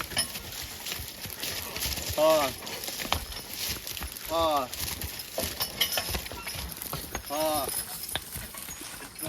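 Young draft horses plod through a plowed field into a dead furrow, soft hoof thuds and harness jingles spaced irregularly under quiet outdoor ambience, with a few high whistles or calls cutting in now and then.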